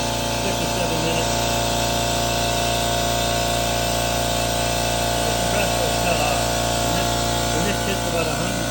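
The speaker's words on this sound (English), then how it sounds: "Hits about 100 psi, the compressor will stop." Air compressor running steadily while filling its tank to about 100 psi: a loud, continuous motor hum and mechanical buzz with a constant tone, and a person talking faintly over it in places.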